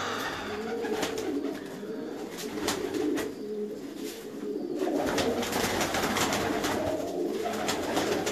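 Rooftop pigeons cooing in a steady series of low, throaty, rolling calls, close by, with faint outdoor background noise and no talking.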